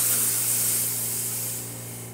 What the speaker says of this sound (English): Steam for this machine, as you can see, nice and strong